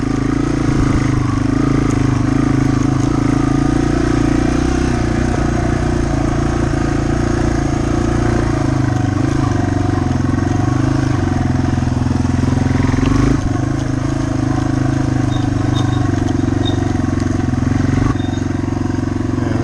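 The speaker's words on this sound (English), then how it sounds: "I guess the second gear right here, just barely cracking the throttle open. And it's just chugging along, no problem." A Yamaha TW200 motorcycle chugs along in second gear on a barely opened throttle, its low, steady single-cylinder engine drone loud and close throughout with no voices.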